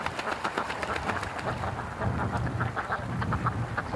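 Ducks quack repeatedly in a steady series of short calls, heard against strong buffeting wind that rumbles low underneath throughout.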